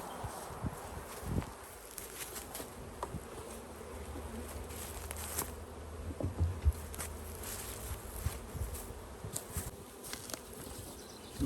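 Honey bees buzz around an open hive during a swarm cell check in Western Michigan, a soft continuous hum with individual insects passing close, plus faint rustling and light footsteps nearby.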